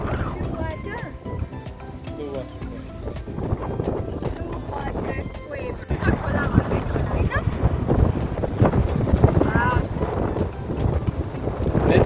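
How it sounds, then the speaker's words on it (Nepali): Strong seaside wind buffets the microphone in steady gusts, rumbling loudly throughout and growing rougher in the second half, with people talking and faint surf underneath. "नेचुरल हावा हो।"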